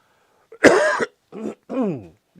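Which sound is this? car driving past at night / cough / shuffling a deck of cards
cough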